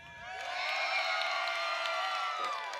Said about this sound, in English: This is a crowd of excited space enthusiasts, Tim.